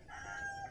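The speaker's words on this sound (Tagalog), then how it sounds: "Ayun, may manok pa." A faint rooster crow carries from a distance at night on the Philippine coast, over a low, steady background hum.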